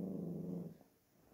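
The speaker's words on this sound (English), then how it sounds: "Okay, you're growling." A dog gives a low, close growl for most of a second, then fades into quiet with faint rustling.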